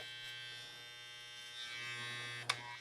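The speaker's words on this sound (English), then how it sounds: "if you have to close the clipper blade down to get some of that hair, you can do that" An adjustable electric hair clipper buzzes steadily at close range with a constant motor hum, its tone shifting slightly as it works through hair, and a brief click near the end.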